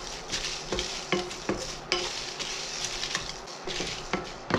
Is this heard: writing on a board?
no